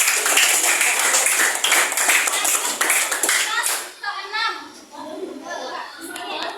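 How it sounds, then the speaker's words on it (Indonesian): A classroom of children claps for their classmates, a broad burst of applause for the first four seconds that thins into scattered claps and young voices chattering. "kalau tidak kasih tepuk tangan dulu buat teman-teman"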